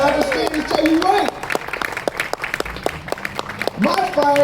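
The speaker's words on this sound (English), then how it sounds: "All these ladies, give these ladies a round of applause." Audience applause during a speech, a scattered clapping bed under a speaker's amplified voice, swelling at the start and end.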